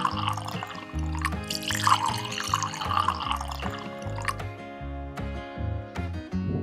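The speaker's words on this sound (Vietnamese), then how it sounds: "Sau đó chúng ta rót nước trà." Tea pours into a glass of ice for a salted cream avocado macchiato drink, a steady close splashing trickle with occasional ice clinks and a final clink, over continuous background music.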